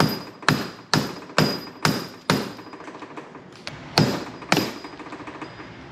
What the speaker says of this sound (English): Use a rubber mallet and smack it in.